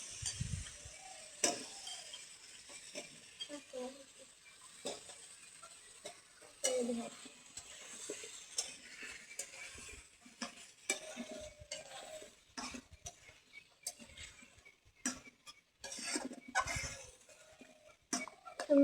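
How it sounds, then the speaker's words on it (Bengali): Tomatoes fry with spices in a pan, giving a faint, steady sizzle broken by scattered clicks and scrapes from stirring. "সুন্দর করে এখন বিলাতিটা কষাই নিব"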